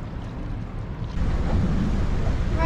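Motorboat cruising on the sea near Whittier, Alaska, among glaciers and mountains: steady engine drone with rushing water and wind buffeting the microphone, growing louder partway through as the boat speeds up, no voices.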